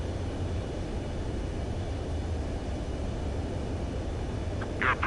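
An aircraft in the Ace Combat video game approaches a runway to land, heard as a steady, dense engine roar and rushing wind that holds at an even level throughout.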